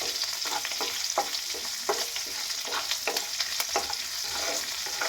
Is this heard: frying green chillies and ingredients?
yes